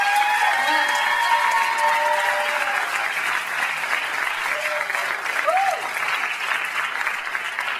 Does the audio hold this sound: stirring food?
no